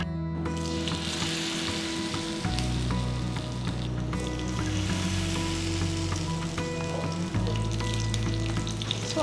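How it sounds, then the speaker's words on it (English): Fish shallow frying in gingerly oil in a pan, a steady, fairly loud sizzle and crackle that runs unbroken with no voices over it. "So we're going to shallow fry the fish."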